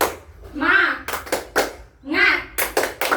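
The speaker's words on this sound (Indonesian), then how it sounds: "ayo kita berdiri, kita tepuk semangat dulu" Children in a classroom perform the rhythmic tepuk semangat chant, alternating chanted words with sharp bursts of quick group clapping in a repeating pattern, close and clear.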